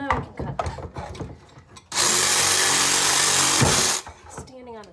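A power tool cuts a laminate backsplash in a burst of loud steady whining and grinding lasting about two seconds, after scraping and handling noises and light speech-like sounds, then stops abruptly.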